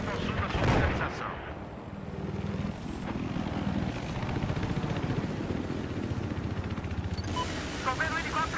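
A video game battle mixes a constant thudding enemy helicopter rotor with bursts of gunfire and explosions, loud and busy throughout, with a voice briefly heard among the noise.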